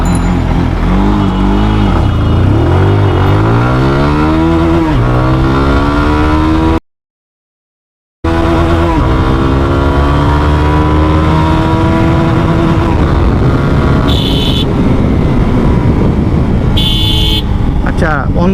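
A GPX Demon 165 motorcycle accelerates hard through its gears on a night speed test, the engine note rising and dropping in repeated sweeps, loud and close with wind rush and a brief cut midway.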